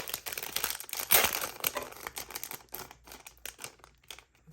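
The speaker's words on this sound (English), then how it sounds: "Probably gonna edit out me opening paper." Paper rustles and crinkles close up as it is opened during a Daily Charme Box unboxing, a run of crisp, irregular crackles and snaps with no talking.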